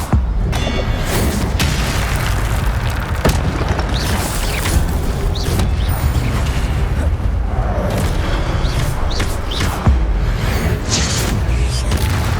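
In the video game Hogwarts Legacy, the Incendio fire spell is cast amid dense, continuous combat noise: rumbling booms, whooshing bursts and sharp impacts keep up loudly throughout.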